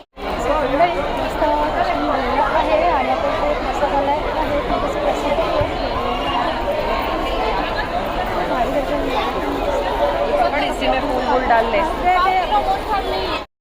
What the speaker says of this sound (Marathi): किती आवारामध्ये गर्दी झालेली आहे मातेच्या दर्शनाला तुम्ही बघू शकता